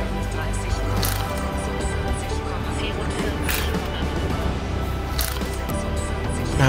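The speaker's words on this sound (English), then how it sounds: "Here we have what you call a Schmidt hammer" A Schmidt hammer strikes relatively fresh mortar during bearing replacement on the Köhlbrandbrücke bridge, giving three sharp, spaced cracks over a loud, constant background rumble.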